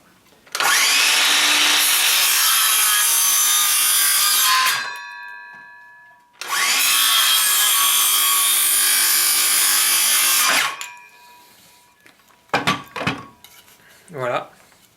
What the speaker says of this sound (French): à la scie circulaire, même principe,